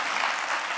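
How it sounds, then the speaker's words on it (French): Audience applause for the competing group SIAD Primo at the opening elimination round of a youth competition, a brief, steady dense patter of many hands with no voices. "On va les applaudir très, très fort."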